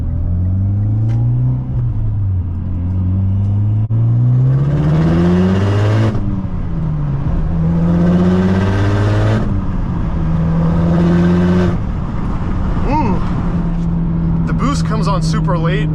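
A 2011 Mitsubishi Lancer Evolution GSR accelerates hard, its engine note rising through several gear changes with dips between shifts, loud and close from the cabin.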